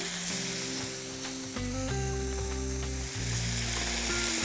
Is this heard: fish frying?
yes